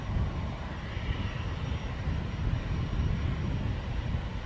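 Steady, loud aircraft engine roar as a plane taxis at an airport, a continuous broadband rumble with a faint high whine and no voices.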